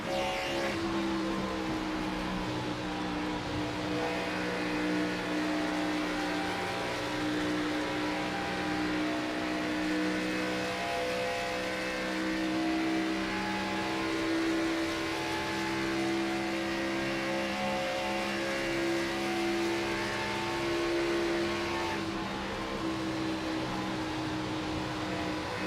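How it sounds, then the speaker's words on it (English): Race cars accelerate hard on a restart lap of the Integrity IGNITE Series Motor City 220, heard on board as one steady, loud, continuous engine drone with layered harmonic whine throughout, no talking. "Restart's going to be real quick here, right on board with Rob Ackley for the initial lap."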